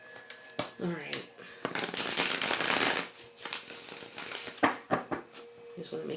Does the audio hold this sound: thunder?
no